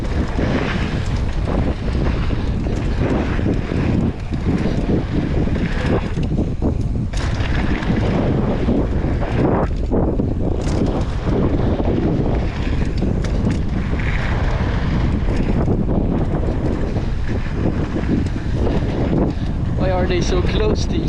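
Wind gusting hard across the microphone at Flottsbro bike park, a loud, steady buffeting roar that fills the whole clip, with faint voices and outdoor activity partly buried underneath.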